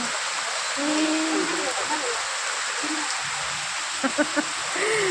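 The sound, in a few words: heavy rain outside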